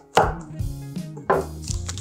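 A sharp knife cutting through a tough acorn squash, two heavy chopping thuds about a second apart with creaking strain and low scraping in between, close and alone.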